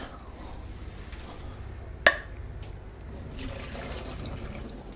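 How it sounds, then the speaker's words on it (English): Cooking fluid from a tray of sweet, sticky U.S.-style ribs drains into a sink as a low, steady wash of liquid, broken once midway by a single sharp clank. "Just drain the fluid straight out into a sink"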